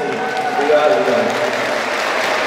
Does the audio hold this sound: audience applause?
yes